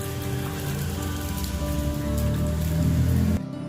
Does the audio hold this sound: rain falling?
yes